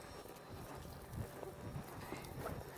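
A horse's hooves clip-clop at a walk while it is being ridden, uneven soft thuds close by over steady outdoor noise.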